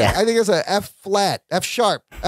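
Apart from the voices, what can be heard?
No everyday noise stands out behind the speech.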